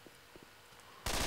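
Three-round bursts from a SCAR rifle in the video game Left 4 Dead: faint game sounds at first, then a loud, dense burst of gunfire that erupts abruptly near the end and continues.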